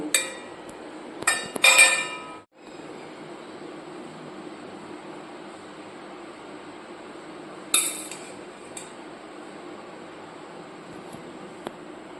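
A spoon clinks and scrapes against a bowl while corn and paneer chaat is mixed, in two short clattering bursts separated by a long quiet stretch.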